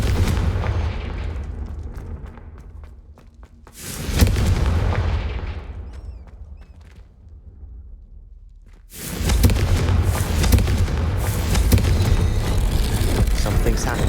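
Confringo blasting-spell explosions in the video game Hogwarts Legacy: loud booming bursts at the start, a sudden blast near four seconds, then a quieter stretch before a sustained roar of blasts and rumble, with game voices mixed in.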